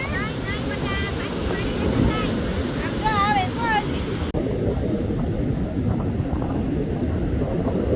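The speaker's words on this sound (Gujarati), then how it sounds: "આમ ઘૂઘવતો દરિયો છે ગજબ એમ" Sea waves crash on the shore at Madhavpur beach in Gujarat, a steady loud roar mixed with wind buffeting the microphone and a few bird chirps in the first seconds.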